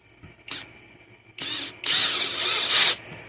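Dollar Tree electric screwdriver drives a screw, three short close whirring bursts, the last and longest running about a second with a rising high motor whine, separated by brief pauses.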